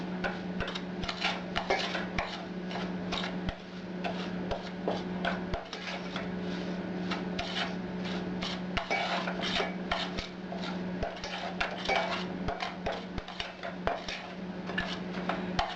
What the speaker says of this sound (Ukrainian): І гарно розмішати треба, щоб з'єднала з какао з без комочків, щоб було.